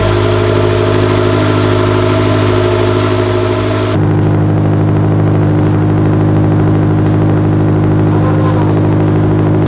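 A lightly modified Subaru WRX engine idles steadily at close range, a low continuous hum with a slight shift in tone partway through.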